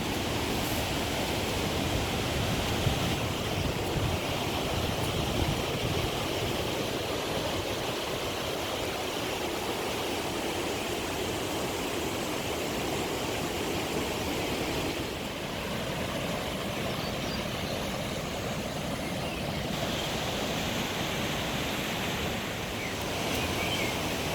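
A river in Wales flows steadily below a mossy mountain hillside, a continuous broadband rush heard from a distance, unchanging and with no voices.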